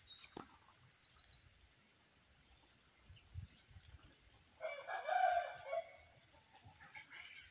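Chickens and a rooster on a farm, with a rooster's crow and scattered clucks and calls at moderate distance against a quiet outdoor background.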